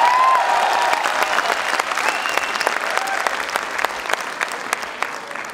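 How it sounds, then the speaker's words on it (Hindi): Loud, sustained applause from a large audience at an Independence Day poetry recital, a dense wash of clapping that stays strong throughout and tapers only slightly toward the end, with a faint voice briefly audible near the start. "तो एक बार जोरदार तालियां उठाए पूरा सदन।"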